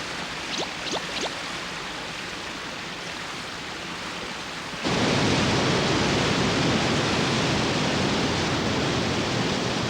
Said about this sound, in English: This is exactly the waterfall I saw in my dream!